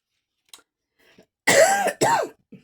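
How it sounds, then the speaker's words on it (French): A few faint clicks, then two loud throat-clearing coughs in quick succession, close and isolated against silence. "Pardon, excusez-moi, j'ai un peu la toux."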